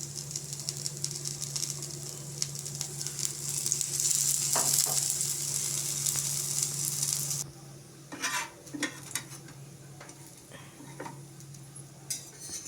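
Eggplant fries in a little oil over low heat, a steady close sizzle that drops suddenly to a quieter fizz, followed by scattered clinks of a utensil against the pan.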